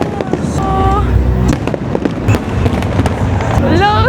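A fireworks display pops and crackles in repeated sharp bursts, with whistling rockets rising in pitch, all under close, lively chatter from people watching.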